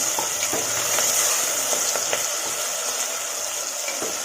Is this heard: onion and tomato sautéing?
yes